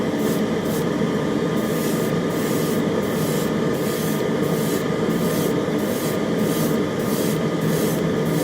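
Airbrush spraying Stynylrez primer onto a model, a steady close hiss with faint rhythmic pulsing, continuous and alone with no talk.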